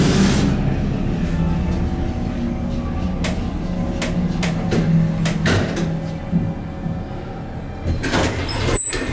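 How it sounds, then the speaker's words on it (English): A Marquis GAL hydraulic elevator in Las Vegas runs through a ride, its pump motor holding a steady low hum while the cab moves, with a few faint clicks and knocks along the way and a short clatter near the end. "I guess we'll go for one more ride just to hear that motor again"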